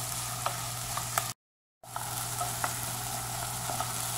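Chopped green onions sautéing in a pan with a steady, close sizzle that cuts out to silence for a moment and then resumes.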